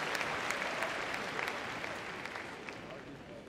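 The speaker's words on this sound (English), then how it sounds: "Give him a round of applause" Spectators at a dog agility championship ring applaud a handler after an elimination, a steady moderate wash of clapping with faint talk underneath, fading slightly.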